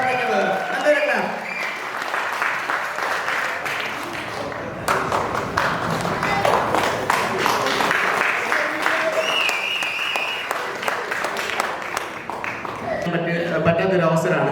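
An audience applauds Dr. Ajay Shankar at the Ananda Bliss 2020 event: steady, dense clapping from many hands that carries on for most of the stretch, with a voice talking over it at times.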